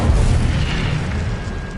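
A fire spell from Hogwarts Legacy erupts in a loud, sustained boom, a dense low rumble that holds steady for about two seconds with a crackling, roaring body above it and no talk.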